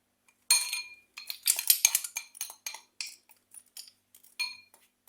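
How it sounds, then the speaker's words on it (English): Spoon clinking against a bowl while dry spices like cayenne, smoked paprika and onion powder are mixed into blackened seasoning, a quick irregular series of light metallic taps, close and fairly quiet. "So we are going to mix all of this together."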